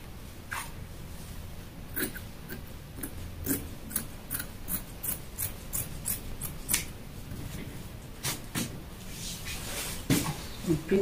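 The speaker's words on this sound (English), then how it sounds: "then you trim out the excess lining by the side" Scissors trim excess lining from the side of a wrap skirt with a series of quick, crisp snips close by, some in rapid bursts, over a quiet background.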